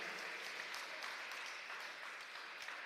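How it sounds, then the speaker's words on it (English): Crowd applauding and cheering at a college swimming and diving meet after a dive, a steady wash of claps and voices heard from a distance at low level. "Crowd cheering him on."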